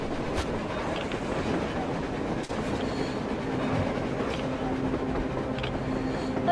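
A train rolls along on the surface in the video game Metro Exodus, giving a continuous rumble and wheel clatter with a few sharp metallic clicks, fairly loud and unbroken throughout.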